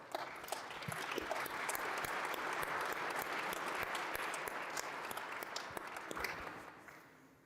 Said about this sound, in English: let's give Otsuka a big round of applause